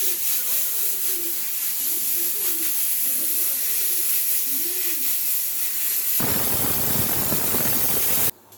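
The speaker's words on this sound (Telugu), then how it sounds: "ఒక విజిల్ వచ్చింది ఫ్రెండ్స్." A pressure cooker on a kitchen stove vents a loud, steady steam hiss with a wavering whistle, then a harsher burst of rushing steam near the end before it cuts off abruptly.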